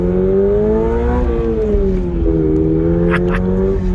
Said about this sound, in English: Yes, it is only a 4-cylinder, but it sounds good